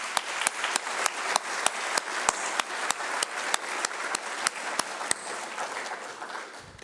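An audience claps at a 2021 Elyria High School senior awards ceremony. The applause holds steady with sharp individual claps standing out and fades near the end.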